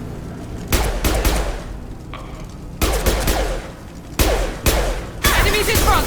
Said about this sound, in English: The Blue Suns and Vulture shooting anything that moves.